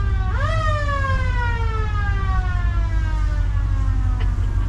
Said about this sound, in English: I got to blow the siren coming in or she won't turn on the gas pumps